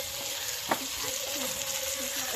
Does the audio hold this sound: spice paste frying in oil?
yes